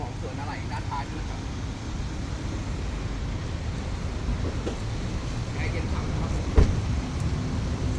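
A petrol Toyota Altis 1.8G idles with a steady, low, even engine rumble that holds through the whole stretch, with a brief knock near the end.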